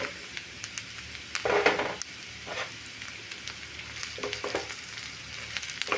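Pointed gourd peels and garlic fry in hot oil, giving a steady close sizzle with a few louder crackling bursts as the pan is stirred.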